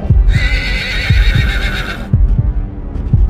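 Horses of Mongol scouts riding hard: a loud close whinny rings out over heavy rhythmic hoofbeats and low thudding, the pounding gallop continuing after the neigh fades.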